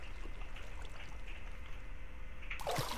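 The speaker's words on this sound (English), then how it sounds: "I should take this little waterfall down." A small waterfall in Minecraft flows with a faint, steady trickling rush that stays constant, and a brief louder clatter comes near the end.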